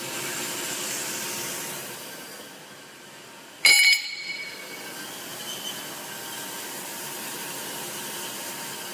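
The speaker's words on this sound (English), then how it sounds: "watching a bandsaw cut metal is therapeutic for me" A bandsaw cuts through a metal plate with a steady, droning machine hum. A sharp metallic clank breaks in partway through, then the even grinding continues alone.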